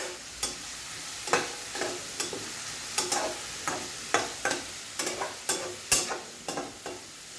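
Sliced onions fry with salt in a pan over a medium flame while a spoon stirs them in a steady rhythm, each scrape and toss rising above a continuous close sizzle.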